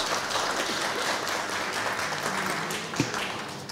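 Applause at a town council session in Myszyniec honoring Piotr Murach and cooperative staff, a continuous moderate clatter of clapping from a room of attendees, steady throughout with one sharper clap near the end.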